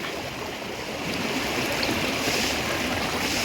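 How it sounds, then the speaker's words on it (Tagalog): Strong floodwater current rushing through a flooded street in Valenzuela, Philippines, a steady, loud broadband roar of churning water that swells slightly louder midway and continues without pause. "Grabe, lakas ng agos talaga."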